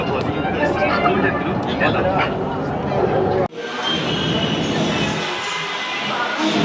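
A Hyderabad metro train rolls into a platform with a loud rumble and squealing wheels, then a sudden clunk and a shift to a steady hiss of the slowing cars.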